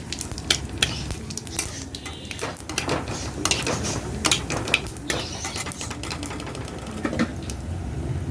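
Potatoes frying in a pan with a cumin tempering, a continuous sizzle broken by repeated scraping and stirring clatter from a utensil against the pan.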